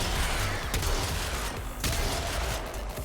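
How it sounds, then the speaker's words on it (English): Shotgun fire in Warframe, a rapid string of loud, harsh blasts over dense gameplay noise with no talking. "Ah, shotguns are so great."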